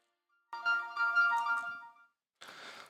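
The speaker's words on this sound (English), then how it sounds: "I had some alarm going on my phone." A phone alarm rings with a bright, steady electronic tone for about a second and a half, then stops. A short noisy burst follows shortly after, in an otherwise quiet room.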